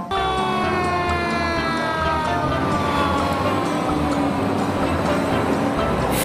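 A toy fire truck's wailing siren with steady, sweeping tones, loud and continuous over a rumbling, busy background.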